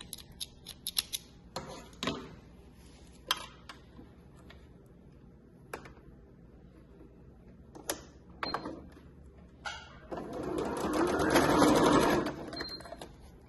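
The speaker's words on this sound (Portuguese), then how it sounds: "E agora, desvira e faz a costurinha de pesponto." Scattered clicks and handling taps, then a sewing machine topstitching a tricoline cotton zipper wallet runs in a steady, whirring burst for a couple of seconds before stopping.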